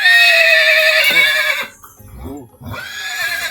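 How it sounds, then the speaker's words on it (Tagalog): A horse neighs loudly and close by, a long whinny that breaks and trails off, followed by softer snorting and lower calls. "Kabayo."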